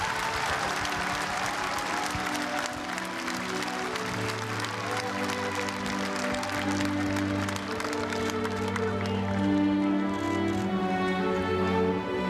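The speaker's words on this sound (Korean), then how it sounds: "박수로 맞아주시기 바랍니다." A crowd applauds at the 10th-anniversary memorial ceremony for former President Roh Moo-hyun in Bongha, sustained clapping that gradually blends with sustained tonal music as it continues.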